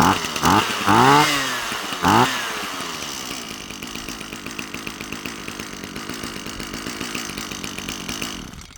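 A small two-stroke engine of an old weed eater sputters and revs in a few rising bursts, then settles into a buzzing, rattling idle close by.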